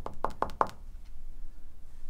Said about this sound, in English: Could you make a knocking sound?